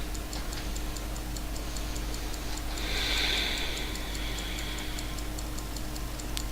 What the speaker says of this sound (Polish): Cykanie takiej bomby zegarka.